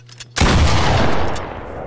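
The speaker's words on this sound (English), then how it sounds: "Shotgun." A single loud, sharp shotgun blast in a video game, followed by a decaying rumble and echo.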